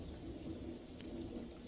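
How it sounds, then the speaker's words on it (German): Steady rain pours in a video game, a dense even hiss with a low rumbling undertone, fairly quiet and with no voices. "Hey, let's get out of this rain."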